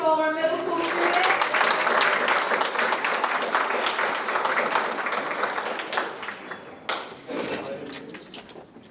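Applause from an audience at a school geography bee for middle school students, sustained dense clapping that fills the room and then thins out toward the end.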